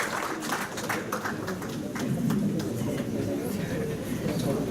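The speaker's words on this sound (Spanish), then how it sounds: "Agradeceremos puedan brindar un voto fuerte de aplausos para el doctor Mario Rodríguez Hurtado" Seminar audience applauding a speaker at a criminal procedure law seminar, dense steady clapping from a crowd filling the room throughout.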